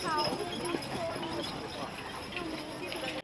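A spotted draft horse, an American breed, walks at a breed show with rhythmic clip-clop hoofbeats under a busy crowd murmur and ongoing talk.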